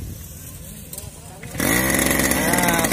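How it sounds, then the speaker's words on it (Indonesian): A backpack grass cutter's small engine is pull-started and roars into a loud, steady buzzing run, after a brief stretch of faint voices and handling noise. "Nah, sudah di starter berbunyi."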